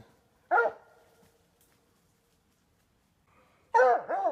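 A coon hunting dog gives two short separate barks at night outdoors, one early and one near the end, with quiet between them.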